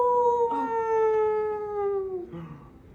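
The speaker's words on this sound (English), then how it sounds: "You hear a dog in the distance." A dog howls in the distance, one long sustained wavering howl that slowly falls in pitch, fairly clear and alone with no talk.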